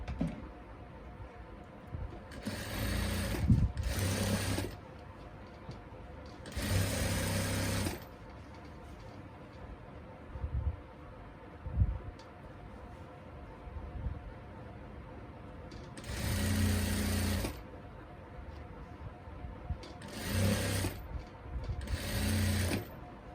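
A sewing machine stitches buckram onto a salwar in several loud, close bursts of fast rhythmic whirring, separated by quieter pauses with faint handling noises and little or no talk.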